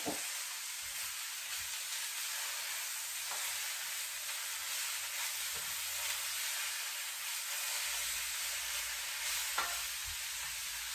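Vegetables and baby bok choy frying in a pan, a constant soft hiss and sizzle with faint stirring taps, quiet and close.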